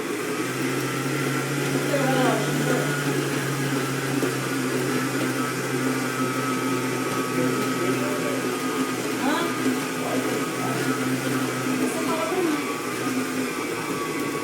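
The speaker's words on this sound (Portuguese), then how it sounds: "Então é 10 minutos a batedeira fazendo esse processo aqui" An electric stand mixer kneading whole wheat bread dough, running as a continuous droning motor hum with a steady tone, loud and close throughout, with faint background sounds over it.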